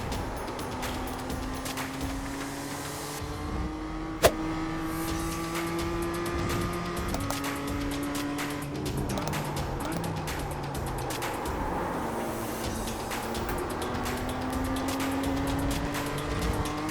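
A race car engine in the iRacing sim screams through repeated upshifts and downshifts, its pitch sweeping up and falling away, with occasional tire squeal and one sharp knock, loud and continuous.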